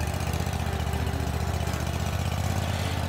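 Riding lawn mower engine running steadily and close, a continuous low rumbling drone with constant loudness and no voices.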